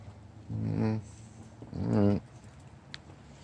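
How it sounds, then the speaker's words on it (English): A dog gives two drawn-out barks about a second apart, each a throaty, wavering call, with quiet background between and after them. "Just a dog barking."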